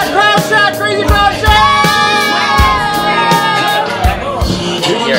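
A lively crowd at a Young Life comedy night cheering, whooping and shouting together at close range, loud and sustained, with voices calling out over the noise.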